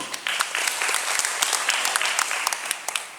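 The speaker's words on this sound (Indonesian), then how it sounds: "Kita beri aplaus dulu." Applause breaks out from the audience at a kindergarten governance workshop in Kartasura, a steady dense clapping that holds for about three seconds with no talk over it.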